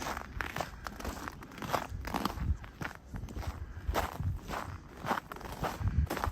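Footsteps crunching over icy, packed snow on a cold February walk in Regina, a steady rhythm of close, crisp crunches continuing step after step with no talk over them.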